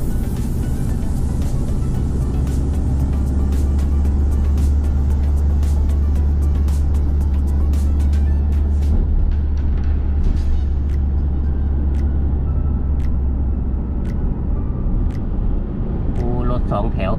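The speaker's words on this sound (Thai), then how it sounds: "โอ้รถ2แถวเพียบเลยนะครับนี่4ล้อเล็ก2แถวนะครับเป็นรถโดยสารนะครับ" Busy road traffic on a Bangkok street crowded with small four-wheel songthaew passenger trucks, a dense, steady roar of engines and tyres heard close up from inside a vehicle, with scattered clicks and brief rattles over the constant rumble.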